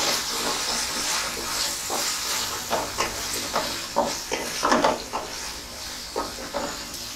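Cut cauliflower frying in a pan for a vegetable pasta, a steady hiss of oil broken by a series of short crackling bursts and stirring scrapes, moderately loud and close, with no voices.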